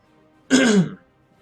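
A man with a frog in his throat clears it once, a short, loud, rough rasp standing alone in an otherwise quiet room.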